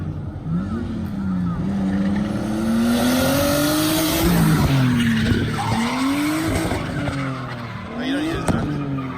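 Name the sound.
drift car skidding with tire squeal in Japan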